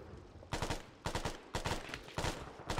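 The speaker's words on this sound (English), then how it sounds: "Suppressing fire." Bursts of automatic gunfire in a co-op shooter video game, several loud rapid-fire volleys in quick succession with short gaps between them.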